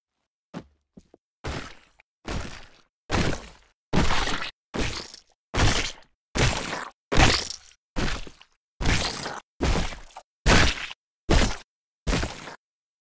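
Ragdoll body hits layered with squelchy blood-and-guts gore for an Unreal Engine game, heard as a quick series of about fifteen loud, crunchy thuds with short gaps between them.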